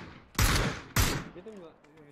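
Two loud, close gunshot blasts about half a second apart come from the military shooter game Squad. A voice follows them.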